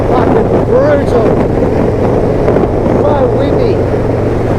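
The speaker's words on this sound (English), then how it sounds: "So windy." Strong wind on open plains on Kangaroo Island buffets the microphone in a constant loud roar, with low rumbling underneath and faint voices mixed in.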